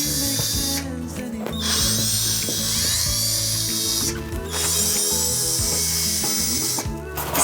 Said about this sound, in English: I'm gonna go get a drill.